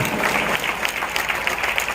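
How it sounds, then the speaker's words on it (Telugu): A church congregation clapping together in a dense, sustained burst of applause, lively and fairly close throughout. "కొట్ట చప్పట్లు గట్టిగా దేవుడికి, గట్టిగా చప్పట్లు కొట్టాలి."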